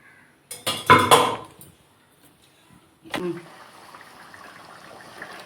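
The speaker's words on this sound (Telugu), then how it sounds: "తిప్పుకొని నీళ్ళు పోసుకుందాం" A few metal clinks of a pot and utensil come first. After a pause, water is poured into a pot for goat head curry with a brief splash, then settles into a soft, continuous gush that fades toward the end.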